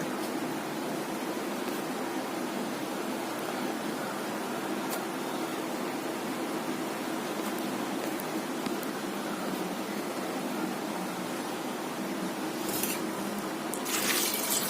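Water poured over chickpeas in a pressure cooker with salt and turmeric, a steady close splashing rush that continues throughout with a brief brighter gush near the end.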